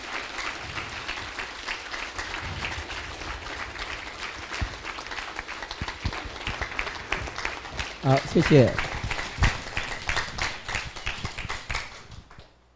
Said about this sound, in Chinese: 一直拍手到他这边为止，好不好？